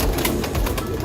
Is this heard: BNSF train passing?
no